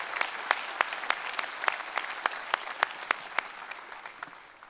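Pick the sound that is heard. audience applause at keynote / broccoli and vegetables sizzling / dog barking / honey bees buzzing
audience applause at keynote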